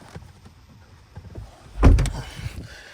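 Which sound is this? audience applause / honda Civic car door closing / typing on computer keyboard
honda Civic car door closing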